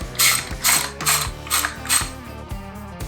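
A ratchet wrench snugs down a part on a Harley Davidson FXR. Nearby there are about five quick bursts of metallic clicking, each a short ratcheting stroke with brief pauses between.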